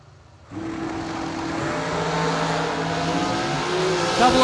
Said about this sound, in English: Will driving Chris Bear's hot rod